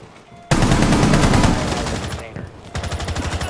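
Rapid automatic gunfire in a video game shooter, loud and dense bursts filling the clip after a brief quiet start, with a short pause before another rattling volley.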